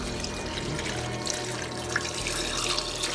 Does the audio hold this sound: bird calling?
no